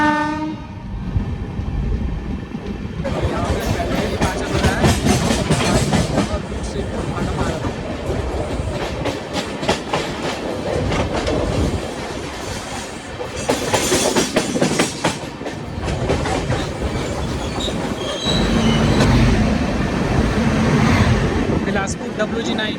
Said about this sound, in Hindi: मेन लाइन पे है तो एक्सीलरेशन हमारा तुरंत ही हो जाएगा क्योंकि वेब 7 लीड कर रहा है हमारी ट्रेन को।